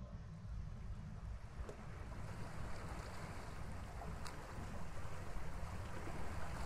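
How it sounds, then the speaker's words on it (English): Ocean waves in the video game A Wolf in Autumn, a steady wash of surf and wind rolling on without pause at moderate level, with no talk over it. "Look at the waves"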